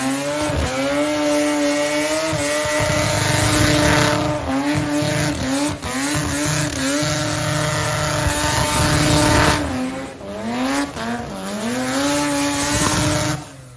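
A turbocharged rotary Mazda Cosmo doing a burnout at Summernats, its engine screaming loud and high with rising and falling revs, cutting and surging continuously over the whole stretch amid tyre squeal.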